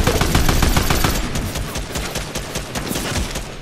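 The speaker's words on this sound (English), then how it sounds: "He sniped me!" Rapid gunfire crackles through a video game match, a dense run of sharp repeated shots close and loud, continuing steadily without speech.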